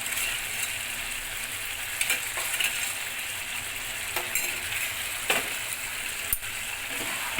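Sour yogurt chicken frying in a pan, a steady broad sizzle with occasional sharp scrapes and taps of a utensil stirring, close and continuous with no talking.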